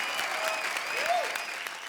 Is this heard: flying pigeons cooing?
no